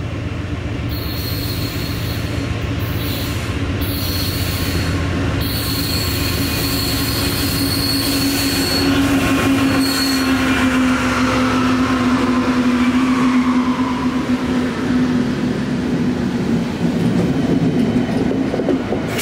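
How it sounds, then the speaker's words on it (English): A mixed manifest freight train hauled by a Lackawanna heritage locomotive rolls past on northeastern rails. Loud, continuous rumble and clatter of wagons comes with a sustained high wheel squeal that rises and holds over the steady roar. "York to Enola, Pennsylvania on the mixed manifest freight train, the Indelible 11Z."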